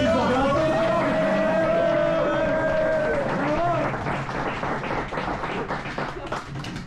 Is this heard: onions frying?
no